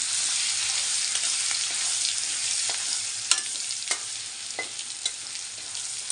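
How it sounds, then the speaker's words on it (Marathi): A paste of chili, garlic and cumin sizzles steadily in hot oil, a bright continuous hiss up close, broken by a few sharp spatters and spoon scrapes as it is stirred. "तेल गरम झालं आहे मिरची लसूण आणि जिरेचे पेस्ट केलेली टाकते"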